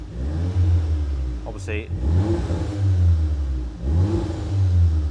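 Volkswagen Golf R fitted with a Scorpion exhaust revving with its valves open, a loud, deep, throaty drone that rises and falls in repeated revs, with someone talking briefly over it.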